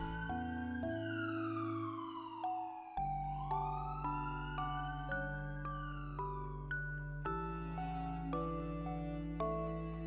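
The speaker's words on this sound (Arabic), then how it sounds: "نعم، إنها سيارة إسعاف." An ambulance siren wails with rising and falling tones, steady and fairly loud throughout, with no voices.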